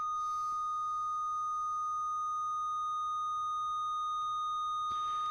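Steady, thin digital aliasing tones hold at fixed pitches, with a faint hissy burst at the start and another near the end.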